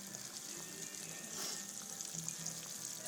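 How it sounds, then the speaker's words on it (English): Steady, close sizzling of green tomatoes frying in a hot pan, a continuous crackling hiss with no talking. "Oh, you can hear them starting to fry real nicely."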